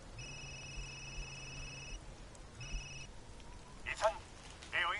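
An electronic phone ring in the video game Resident Evil Village sounds in two bursts, a long one then a shorter one, followed by faint clicks and rustling.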